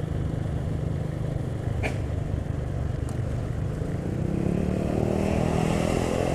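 Diesel bus engine of a Sumbar–Riau route coach climbing the Kelok 44 hairpin mountain road between Lubuk Basung and Pekanbaru, a steady loud rumble that swells as it accelerates, with no talk.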